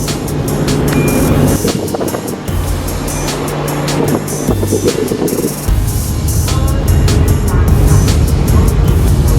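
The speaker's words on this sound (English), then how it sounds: "we're getting ready to take off on the ferry" Ferry leaving port for Gozo, Malta: a loud, steady engine rumble fills the whole stretch, with busy mixed noise and shifting tones over it and some background voices.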